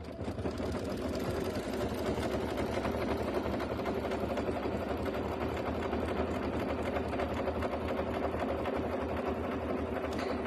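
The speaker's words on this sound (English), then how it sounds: "So we'll go ahead and stitch that." A KimberBell embroidery machine stitching a roll-up pouch, a steady rapid mechanical whirring and needle clatter that runs continuously at an even level with no talk.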